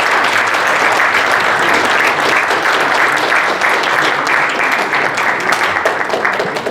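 An audience gives sustained, dense applause at an award plaque presentation during a Korean army officers' association general meeting, a steady loud clapping that continues evenly throughout.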